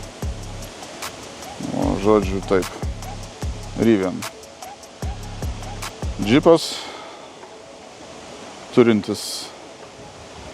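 Strong outdoor wind buffets the microphone beside a Rivian R1S first-generation SUV, making a low, rumbling roar that swells and drops in gusts while someone talks over it.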